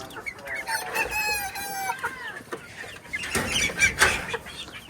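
Native chickens kept in cages on a house rooftop cluck and squawk close by, a hen's rising calls and a rooster-like crow overlapping in irregular bursts.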